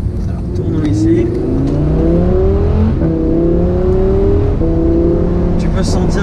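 An Audi R8 V10 Plus engine revs continuously while driving, a loud, close, rising and falling drone with gear changes, with a voice talking over it.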